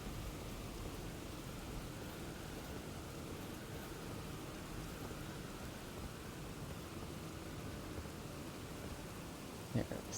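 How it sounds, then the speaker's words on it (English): Steady, dense rain hisses throughout a stormy scene in the video game Elden Ring, an even wash of noise with no break, faint overall. "Can't really see with all this rain and shit."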